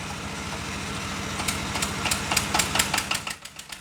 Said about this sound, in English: Somehow, the decrepit diesel engines are made to work.